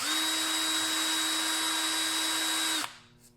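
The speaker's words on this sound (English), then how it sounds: "So I put this on the drill." An electric drill spins a shaver blade sharpening piece with a loud, steady high whine that suddenly cuts off near the end and fades out.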